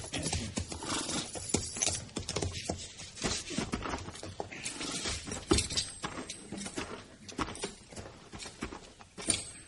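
Hooves clop and shuffle steadily on the ground as horses move about, with occasional snorts, heard fairly close without any talking.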